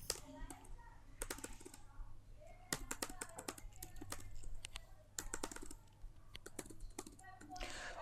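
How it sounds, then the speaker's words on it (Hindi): Keys on a computer keyboard being pressed while working in Excel, including the Ctrl+Enter shortcut: a quiet, steady run of rapid plastic clicks and taps, close by, with brief pauses between bursts. "और मैं यहाँ पे कंट्रोल एंटर प्रेस करूँगा"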